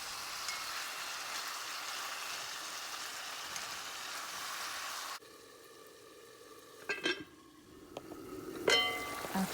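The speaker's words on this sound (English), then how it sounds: "I'm going to be adding my marinated chicken to the hot oil" Marinated chicken for Jamaican brown stew chicken frying in hot oil, a dense loud sizzle that drops to a quieter bubbling, with scraping stirs and clinks toward the end.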